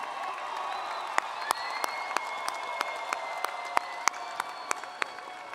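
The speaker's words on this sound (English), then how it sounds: "Give them a round of applause." A large arena crowd at a university commencement applauds in a steady, reverberant wash, punctuated by sharp, loud individual claps close by, with faint cheering underneath.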